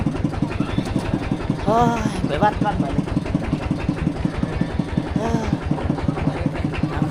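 A walking tractor's small engine chugs steadily with a rapid, even putter throughout, while voices talk and call out over it.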